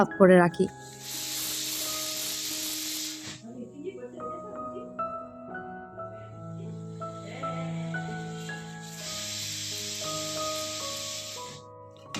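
A pressure cooker of khichuri on a low gas flame lets out two long, loud hissing bursts of steam separated by a quieter stretch, with music and a voice in the background.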